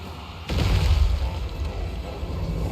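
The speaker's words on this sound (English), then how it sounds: "First skull cannonball splashes on into the spears." A skull cannonball slams into a block of spearmen in Total War Warhammer 3, a sudden loud boom that swells into a sustained rumbling roar of battle noise.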